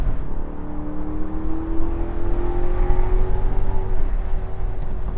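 A Maserati GranTurismo Convertible with a six-speed automatic builds engine noise as it speeds up on the highway with the top down. A rising tone climbs steadily over loud wind and road rumble, and no one speaks.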